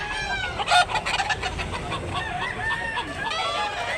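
A fighting rooster offered for sale clucks and gives a short crowing call close by, several bursts of throaty clucks with faint outdoor background.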